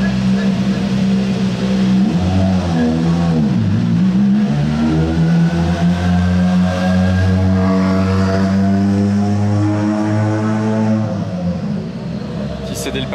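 An Aston Martin Vanquish accelerating away at the Monte-Carlo Rally, its loud engine note climbing through rising revs close by in a town street, then fading toward the end, with excited voices talking over it.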